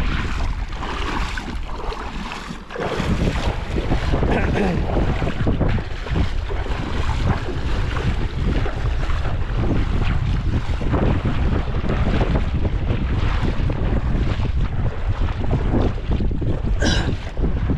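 Strong wind buffets the microphone continuously in loud, roaring gusts while fishing from a boat, with the boat and water sloshing faintly beneath.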